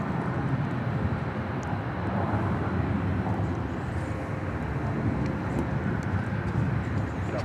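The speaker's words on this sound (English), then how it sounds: "737-700 arriving from Houston, Texas" Boeing 737-700 airliner arriving at Dallas Love Field, a sustained even engine roar at moderate distance, steady across the whole span with no voices.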